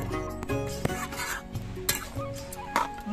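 A spoon scrapes and clinks against a pan of chicken slowly braising with yogurt and a little sugar, cooked without oil; close, intermittent knocks and stirring over a steady low hum.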